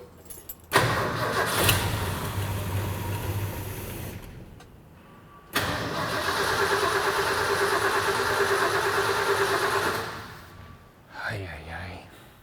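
A Ford F-100 engine that sat ten years in a field cranks in two long, loud, steady bursts without catching, each ending abruptly, with a short rattle after the second.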